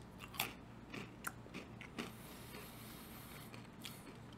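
Crunchy bites and chewing of a Chex Mix Max'd Jalapeno Cheddar pretzel piece sound close and quiet, with several crisp snaps followed by softer mastication.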